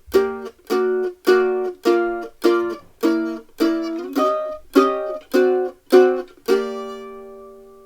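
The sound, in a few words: mandolin playing quarter-note chord chunks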